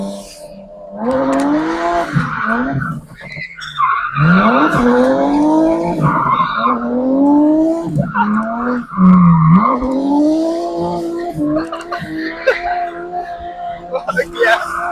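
A car drifting with four people aboard, its tires squealing in long, wavering, pitch-bending tones that run loud and continuous throughout, with voices talking and reacting over the screech.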